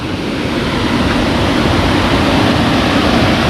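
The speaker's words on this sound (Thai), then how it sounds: "เป็นน้ำตกตาด" A waterfall pours in the forest with a loud, continuous rushing roar. The noise stays full and even throughout, close by, with no voices.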